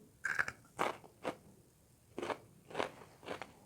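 Six sharp, crisp crunches of someone biting into crunchy blanched green beans, close up, in an irregular rhythm with brief quiet gaps.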